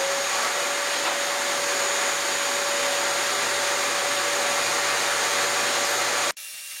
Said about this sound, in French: c'est peut-être mon aspirateur qui tire tout